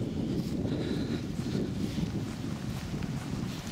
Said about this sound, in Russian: Сегодня сильный ветер, особенно на Волге.